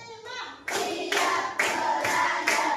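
Fifth-grade pupils in a classroom call out numbers together and answer each with a crisp collective clap, producing four or five strong, rhythmic clap bursts alternating with chanted voices.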